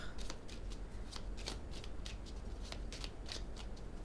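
A deck of tarot cards is shuffled and handled up close in a quiet room, with rapid rustling riffles and soft slaps of card on card repeating in quick bursts throughout.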